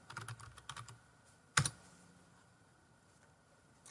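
Computer keyboard keys tapped in a quick burst while typing into a search box, followed by one sharper louder click and then near quiet.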